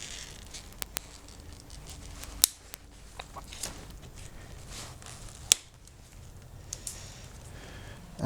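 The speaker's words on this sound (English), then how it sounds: "So I'll snip this cable tie here." Cable ties being snipped on the handlebar wiring of a BMW R1150GS motorcycle during heated grip work, heard as a few sharp, isolated clicks and snaps up close against a quiet background.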